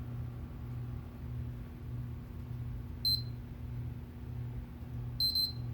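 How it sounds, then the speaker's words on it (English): A PlayStation 3 console, model CECH-2501A, sits humming steadily while short, high electronic beeps sound twice, one near the middle and a paired pair near the end. "we're going to listen for the double beep"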